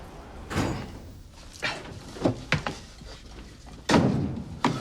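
A door in a soap-opera home is opened and shut, giving several sharp thuds and knocks spread over a few seconds, including a louder bang near the end.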